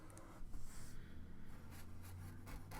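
A Sharpie marker outlining small bushes in a drawing on paper, soft close scratchy strokes in short bursts and longer sweeps, faint and with no talking.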